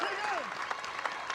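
Florida Gator fans cheer and applaud in a college softball stadium against Georgia Tech, a brief dense wash of crowd noise beneath a commentator's voice.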